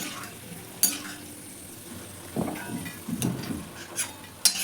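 Sun-dried black nightshade berries fry in oil in a small tempering ladle, a soft sizzle broken by several sharp metallic clinks and stirring scrapes, close and fairly quiet.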